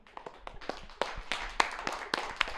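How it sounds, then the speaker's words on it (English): Scattered applause from a small audience after a quiz answer: a run of quick, uneven claps of moderate loudness, close by and continuing steadily for a few seconds without talk. "Round of applause for Elijah for that one."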